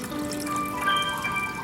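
Water pours steadily into a watering can to dilute liquid fertilizer concentrate for rose plants, a continuous close splashing rush with no talking.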